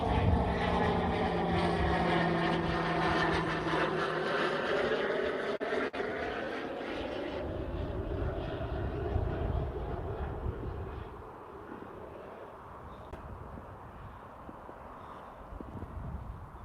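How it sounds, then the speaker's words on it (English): A propeller airplane passes overhead in a loud, drawn-out drone. Its pitch sweeps downward as it goes by, and the sound then fades into a faint, distant rumble with wind. "hold on, we got a plane coming."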